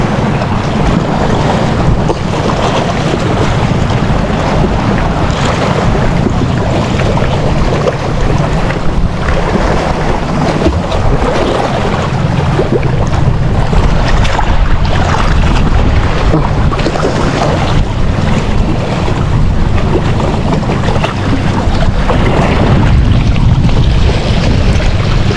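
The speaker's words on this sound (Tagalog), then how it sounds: "Dumaan na bangka eh." A fishing boat passes by on open sea water near a shoreline fishing spot, its engine drone blending with steady wind buffeting the microphone and surf washing for the full length, loud and continuous with no talking.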